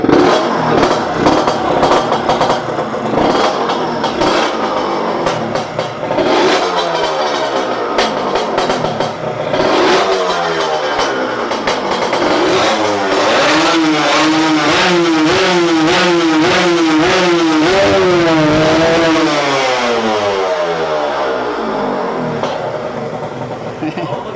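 A Serpico motorcycle with a side-mounted exhaust revs repeatedly, nearby and loud. Its pitch climbs and falls in wavering sweeps, and someone talks over it at times.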